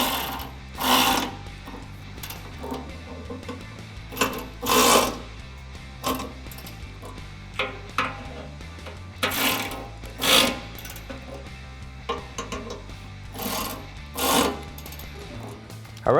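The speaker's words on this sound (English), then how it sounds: "grab our 10mm wrench and our 5mm hex head socket to tighten them the rest of the way down" Bolts on a Jeep Wrangler JL rear bumper are tightened with a 10mm wrench and a 5mm hex socket. Close, repeated ratcheting and scraping bursts come in uneven spurts with short pauses between, and there is no talking.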